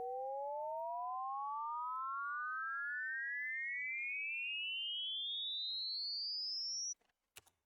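A handcrafted synth riser built from a sine wave through ring modulation, two bright tones gliding steadily upward in pitch for about seven seconds, then cutting off abruptly with a brief click.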